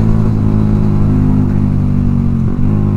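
Yamaha R15 V3 motorcycle fitted with a Proliner exhaust, revving loud and close with a steady throaty drone and a brief dip near the end, no voices.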